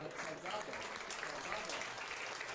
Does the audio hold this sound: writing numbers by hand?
no